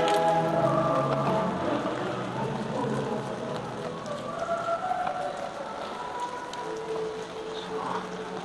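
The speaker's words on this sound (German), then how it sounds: "bei diesem super Wetter, bei diesem klasse Regen" Rain pattering on surfaces around a pavilion during a walk in Venice, a soft continuous patter with faint distant background activity throughout.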